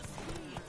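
Galloping horse hooves from The Witcher 3 on PS4, a short burst of clip-clop beats under crowd voices and game noise.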